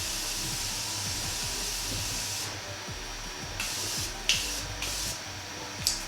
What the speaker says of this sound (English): I'm going to spray my face one more time just to lock the highlight in.